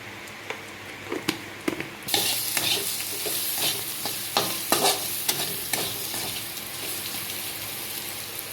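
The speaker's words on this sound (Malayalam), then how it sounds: "ഇത്രയും കൂടെ ചേർത്തിട്ട് അതൊന്നുകൂടെ നന്നായിട്ട് വഴറ്റിയെടുക്കുവാണ്" Spiced masala for prawn roast sizzling and being stirred in a pan, a steady loud fry that jumps up sharply after two seconds, with scraping stir clicks scattered throughout.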